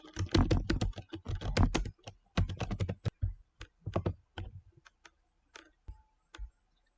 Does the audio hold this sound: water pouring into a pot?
no